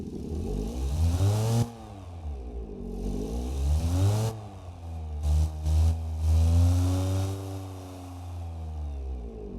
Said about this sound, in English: the engine sounds like